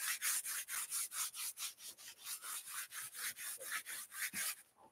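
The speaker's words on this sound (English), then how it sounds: "So I got to sand it." Rough wooden edges are sanded by hand in quick, regular back-and-forth strokes, a close, bright rasping rub repeated about four times a second, with no voices.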